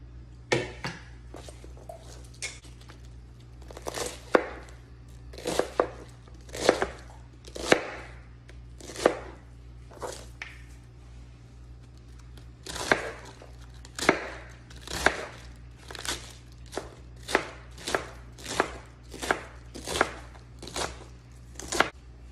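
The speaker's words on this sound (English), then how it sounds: "So, you know, you cut that, you still cut those tough parts out." A knife chops through tough leafy greens on a cutting board. Crisp, close, uneven strokes repeat in clusters with short gaps, and there is no talk over them.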